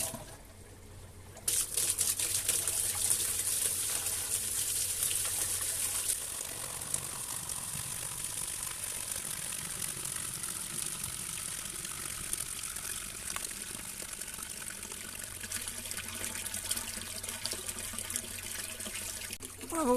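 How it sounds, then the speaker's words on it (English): Water gushes and trickles steadily as a pond filter system fills, starting abruptly and continuing as a loud, continuous rushing flow with a low hum beneath it and no talking. "let's turn it on, fill it up and see how things go."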